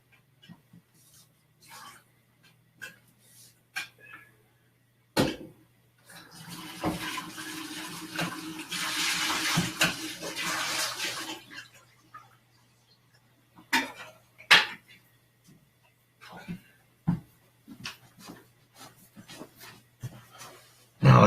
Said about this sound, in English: Then you gotta wash it out with hot soap and water, and you gotta let it dry so you don't get soap in your coffee.